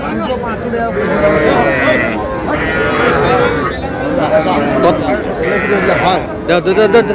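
Cattle, including Sahiwal-breed bull calves, moo repeatedly at a busy livestock market in Rajbari, with loud, close, drawn-out lows over a crowd of people talking and bargaining.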